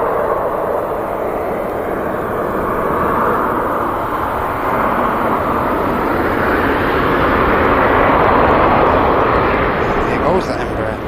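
An Embraer jet at Manchester Airport rolls past with a loud, broad engine roar that builds to a peak and then eases, while a voice talks over it.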